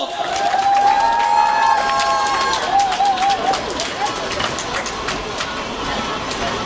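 A rally crowd breaks into sustained applause and cheering at a political protest in Daegu, loud and close, slowly thinning toward the end, with a few voices and whistles mixed in.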